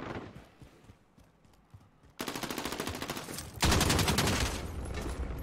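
Rapid automatic gunfire in a Call of Duty multiplayer hardpoint match, two loud close bursts of steady rattling shots following quieter game ambience.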